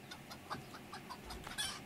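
Chickens in the farming video game Farmers Life give soft, faint clucks in a scattered, irregular series, quiet and close, with no talk over them.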